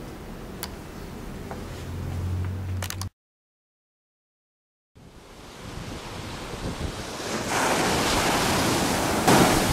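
Ocean waves wash onto the shore at Dreamland beach, a steady roar of surf with wind buffeting the microphone, briefly cut to silence before the surf swells back louder and continuous.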